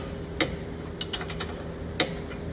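A wrench tightens a ball joint nut on a 2013-2020 Subaru BRZ lower control arm, giving a few sharp ratcheting clicks spread irregularly over a quiet garage background.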